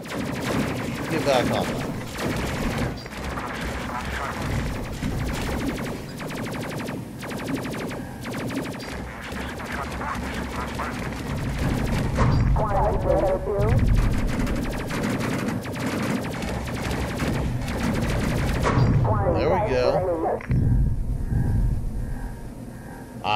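Dense sci-fi gunfire rattles in the space video game Space Crew, sustained rapid bursts and blasts layered over game effects, with a voice briefly speaking over the barrage.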